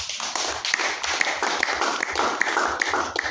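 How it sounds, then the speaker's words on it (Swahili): A church congregation claps steadily for Jesus during a Swahili sermon on love and obedience in marriage, a dense, continuous round of many hands with sharper individual claps standing out, loud and close with no voices. "Pigia Yesu makofi."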